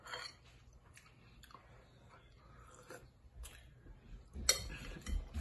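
Spoonfuls of grouper fish head soup with okra being tasted and eaten: soft chewing and occasional utensil clinks against a bowl, quiet and close, with a louder clatter near the end.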